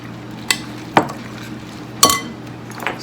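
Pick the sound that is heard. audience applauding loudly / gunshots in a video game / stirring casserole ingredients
stirring casserole ingredients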